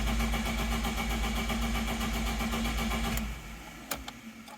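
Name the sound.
BMW E30 engine cranking and failing to start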